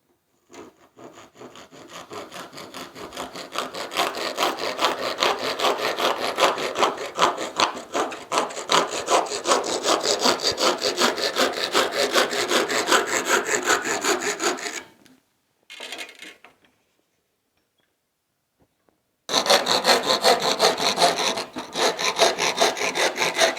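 A hand saw cuts through wood in fast, even rasping strokes for about fifteen seconds, pauses briefly, then resumes sawing near and loud.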